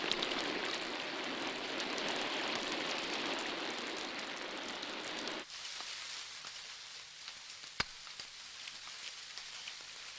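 Steady broadband rain falls for the first half, hissing loudly and close, then drops to a lighter patter with scattered drips and one sharp tap near the end.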